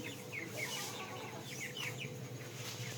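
Asil chickens cluck and chirp softly in a village yard while pecking at rice, with short repeated calls over a faint steady background hum.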